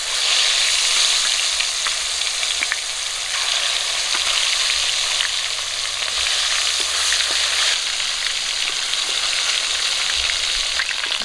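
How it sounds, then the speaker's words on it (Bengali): Pieces of rui fish fry in hot oil, giving a steady, dense sizzle that holds through the whole stretch, with a few soft clicks and scrapes and no voices. "বাকি মাছগুলো একই রকম করে ভেজে নেব।"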